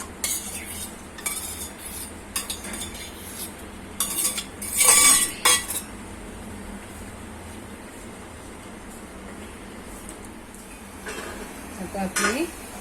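Dried shrimp (kolbi) tipped into a pan of softened onion and tomato and stirred with a metal spoon, giving scattered clinks and scrapes against the pan, with one louder clattering burst partway through, over a steady low hum.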